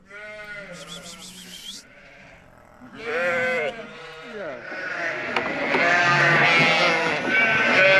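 Lambs in a sunny, south-facing pen bleat repeatedly at varying pitches, several animals calling close by, with a person's voice briefly in the mix and a rising rustle of activity near the end.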